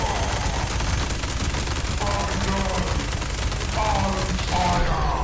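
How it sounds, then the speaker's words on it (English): Sustained rapid automatic fire from a Gatling gun in the video game Fallout 76, a dense unbroken rattle of shots lasting the whole stretch, loud and close with faint mechanical whirring beneath. "I've got to use the Gatling."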